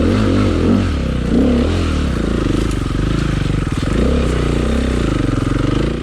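A KTM 500 dirt bike rides single track, its engine loud and close throughout, the revs rising and falling steadily with no pause.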